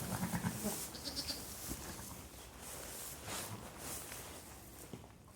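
Sheep bleat on a small 35-acre Welsh farm at lambing time in early spring, several short calls in the first second then fading into quieter barnyard rustling and background noise, fairly distant.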